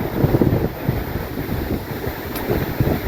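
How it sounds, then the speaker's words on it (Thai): Strong wind buffets the microphone with loud, continuous low rumbling gusts outdoors, swelling and easing throughout with no other clear sounds. "ได้ยินแต่เสียงลม"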